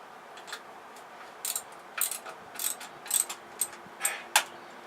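A hand wrench tightens the 13 mm bolts on a Volvo MD-3B marine diesel thermostat housing, giving a handful of faint, close metallic ratchet clicks in short irregular bursts over low background hiss.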